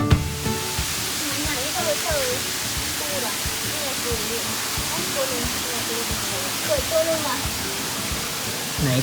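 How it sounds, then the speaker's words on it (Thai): Rushing water at Tat Wimanthip waterfall in Phu Langka, a continuous broadband roar close by with voices talking intermittently over it. "น้ำตก"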